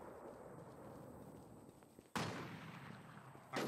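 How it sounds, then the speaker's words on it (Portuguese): Faint background hiss, then two sudden sharp gunshot bursts in the video game Infestation: The New Z, the first loud and lingering, the second cut off at the end. "Tô tomando tiro, mano."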